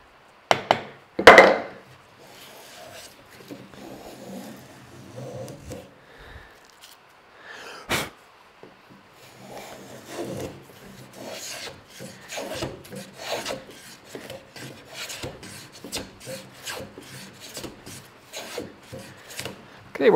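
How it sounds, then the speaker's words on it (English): A hand rebate plane made from a chisel takes shavings off pine, giving repeated rasping strokes of wood being shaved close up, with scattered handling knocks and no speech. "Okay, we're taking some decent shavings."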